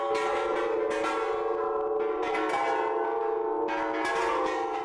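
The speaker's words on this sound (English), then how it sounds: "if the wind is blowing just right, you'll hear the chimes that Horace made from discarded oxygen tanks" Wind chimes made from discarded oxygen tanks ring outdoors with deep, bell-like metallic tones, overlapping strikes sustaining and swelling under a steady background, no talking.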